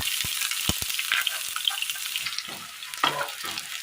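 Mustard seeds and small shallots fry in well-heated oil, making a steady, loud sizzle with crackling pops and a few sharp seed spatters throughout.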